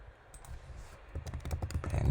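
Typing on a computer keyboard, a quick run of soft close key clicks that grows busier after a quiet start, with no speech.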